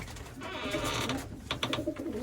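Pigeon cooing from an escaped homing pigeon caught at home, a soft low repeated coo close by with rustling and household noise around it.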